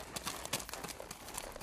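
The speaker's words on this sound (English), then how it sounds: "placed a saddle on my horse, and started as fast as possible down the trail taken by Powell" A saddled horse gallops fast down a trail, its hooves beating in a quick, steady, continuous rhythm, heard faintly within a wash of broad background noise.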